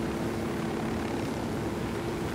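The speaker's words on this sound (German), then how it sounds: "Boah, der Hubschrauber macht ja nicht mehr lange." A helicopter flying in the tactical shooter Ghost Recon Wildlands, a loud, steady rotor and engine roar that holds evenly throughout, with no voices.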